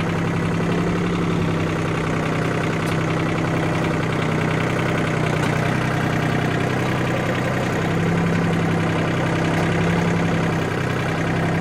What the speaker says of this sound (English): Trusty tractor.